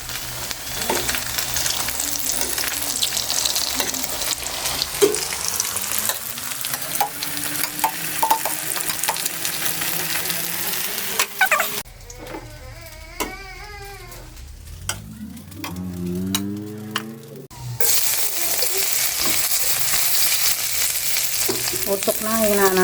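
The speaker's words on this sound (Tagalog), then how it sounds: "Lutuin na natin yung maling." Maling luncheon meat frying and being turned in a pan, a steady close sizzle with scraping and stirring, briefly easing off mid-way before the hiss returns loud, with faint meows in the quieter stretch.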